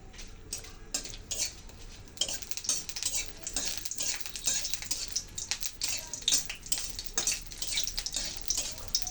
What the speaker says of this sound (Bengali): কড়াইতে তেল দিয়েছি, এখন লঙ্কাগুলো দিয়ে ভাজতে থাকবো।